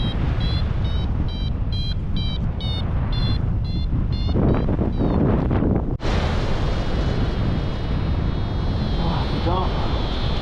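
Steady roaring wind buffets the microphone throughout a paraglider flight into headwind, loud and unbroken, with a series of electronic beeps from a flight instrument early on.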